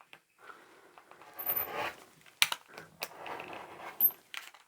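Scissors snip through an old men's tie, soft close crunching cuts in a few short bursts over a quiet background, with fabric rustling between.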